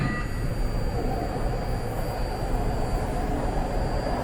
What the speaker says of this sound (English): This is a red line train to Millbrae.